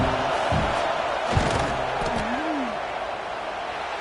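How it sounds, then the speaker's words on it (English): Steady roar of a stadium crowd in the College Football 26 video game as the field goal unit lines up on fourth down, a continuous loud wash of noise with a few thuds and shouts in it. "This crowd trying to do its part to get inside the kicker's head"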